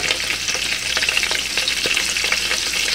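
Garlic fries in hot extra virgin olive oil in a pan, a close, dense, continuous sizzle with faint crackles and light stirring, no talking.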